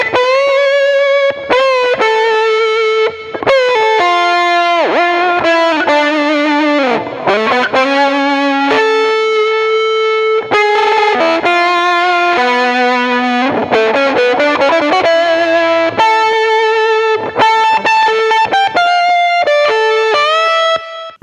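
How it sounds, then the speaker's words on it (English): Heavily distorted electric guitar plays a melodic run of sustained notes and bends through a virtual amp in Logic with clip distortion, loud and continuous with brief gaps. "let's just add the clip distortion as well and see what we have"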